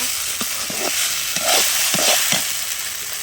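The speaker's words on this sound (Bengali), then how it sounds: "ঢ্যাঁড়সের ভাজা হয়ে এসেছে, আর একটু করে নামিয়ে নেব বন্ধুরা।" Okra frying in a pan, a steady close sizzle with a few short scraping stirs spaced through the sound, no voices.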